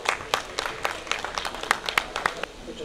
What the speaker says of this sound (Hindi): आप सबकी भरपूर तालियों में हम दावत दे रहे हैं ज़ेब औरंगज़ेब साहब को कि तशरीफ लाएं और कलाम पेश करें।